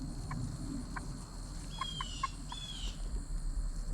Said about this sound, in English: He sounds like a baby rooster. He's more squeak than crow, but it's pretty funny.